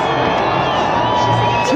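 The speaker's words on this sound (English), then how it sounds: "And the crowd is fired up." Football stadium crowd at a Denver Broncos home game against the Cleveland Browns, a loud, dense roar of cheering that fills the whole moment, with voices talking within it.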